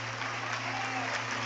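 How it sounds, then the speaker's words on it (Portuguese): A church congregation claps steadily in sustained applause, dense and even throughout, with a low hum underneath. "Comece a aplaudir esse Senhor."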